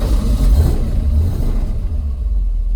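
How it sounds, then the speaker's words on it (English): A 1974 Plymouth 360 Cuda's 360 V8 cranks and catches inside the car, a loud low rumble that swells early and then settles into a steady idle, with no voices. "I'm gonna start the car."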